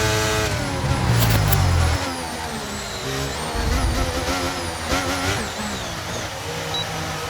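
Williams F1 car in the F1 23 racing game with its engine failing, a strained, wavering engine drone with tonal whine and rough bursts, loud and continuous with no talk.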